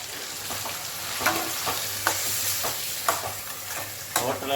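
Beetroot kootu with added coconut is stirred in a pan over the heat, giving a steady sizzle with regular scraping strokes about once a second, close by and without talking.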